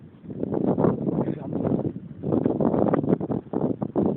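Gusting wind over the Agadir corniche buffets the microphone in rough, uneven surges, carrying fine blowing sand, loud and close with a brief lull midway and no speech.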